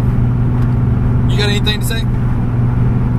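Infiniti G35 Coupe in stock form cruising on a highway, with a steady low engine and road drone throughout and a person speaking briefly over it midway.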